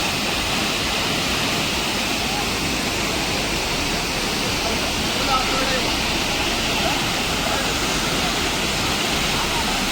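Dodhani Waterfall near Panvel in the monsoon roars in a dense, unbroken rush of falling water, loud and steady for the whole stretch.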